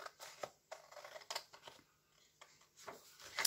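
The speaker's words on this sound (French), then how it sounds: "Donc je prends mes ciseaux, hein, c'est plus facile pour découper." Scissors cut out a paper pouch template with a run of quiet, crisp snips and rustles, irregular and close, with no voices.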